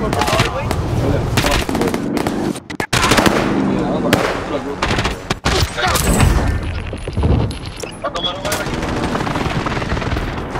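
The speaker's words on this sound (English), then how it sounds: "submachine gun" Submachine gun fire in the video game Call of Duty Warzone, with loud rapid bursts of automatic shots and scattered explosive cracks, dense and close, over game sounds and a voice.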